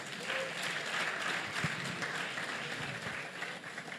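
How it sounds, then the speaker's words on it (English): Audience applause at a student meetup with animation professionals: continuous dense clapping from a crowd, fairly faint and steady for the whole stretch. "Ladies and gentlemen, a round of applause for that."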